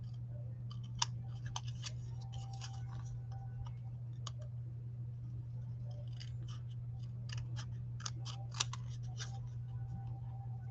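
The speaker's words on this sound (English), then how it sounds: "I'm just going to cut these off like we did the first one." Scattered sharp snips and clicks of scissors cutting, in irregular bursts over a steady low hum.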